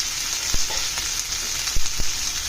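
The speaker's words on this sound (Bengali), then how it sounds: "বাদামি কালার আসলে আমি মাংস দিয়ে দেবো, চিকেন মাংস" Chicken meat frying in a pan, a constant hissing sizzle with a few sharp knocks and clicks scattered through it, no talking.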